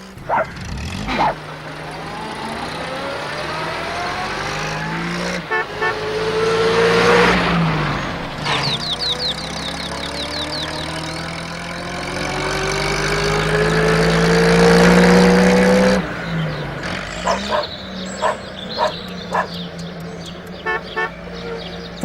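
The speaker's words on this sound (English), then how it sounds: "Then you'll have to drive the van, Jess." A postal van's engine whines and revs as it drives along, its pitch rising and falling in long sweeps. A horn toots and a dog barks now and then, all fairly loud and close, with no talking.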